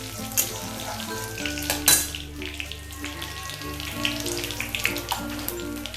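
Whole cumin seeds tempering in hot oil, heard as a close crackling sizzle with a few sharp pops and spoon clinks, over a low steady hum.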